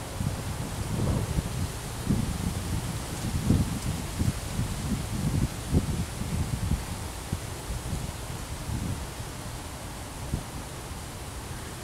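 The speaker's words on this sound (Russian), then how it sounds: "Сегодня на Двине ветер." Fresh wind over the Daugava river in Riga rushes steadily as a broad, soft hiss, with gusty low buffeting against the microphone and no voices.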